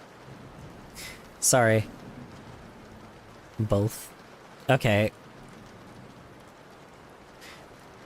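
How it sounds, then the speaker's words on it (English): Heavy rain hisses steadily throughout as a constant background wash, with no distinct thunder. A person speaks a few brief words over it. "Heavy rain hurt my ears."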